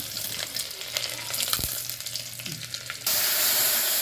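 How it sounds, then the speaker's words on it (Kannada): Mustard seeds, cumin, curry leaves and garlic tempered in hot oil for a simple toor dal sambar crackle and sizzle steadily, the frying swelling to a louder, denser hiss for the last second. "ಸಾಂಬಾರು ಒಗ್ಗರಣೆ ಹಾಕಿದ್ರು ನೋಡಿ"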